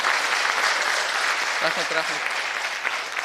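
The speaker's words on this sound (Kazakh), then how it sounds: "Менің ойым, әмі бір жақсылап шапалақ болса жақсы болар еді." An audience at a humor competition applauds steadily throughout, a thick wash of clapping, while someone briefly speaks over it midway.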